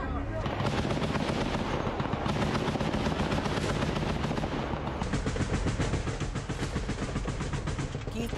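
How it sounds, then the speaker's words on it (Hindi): An artillery unit's attack on Russian forces brings rapid, dense bursts of gunfire and heavy thudding blasts, loud and continuous throughout with little pause. "आर्टिलरी यूनिट ने भीषण हमला किया है और ताबड़तोड़ गोलीबारी से हुए अटैक की ये तस्वीर देखिए"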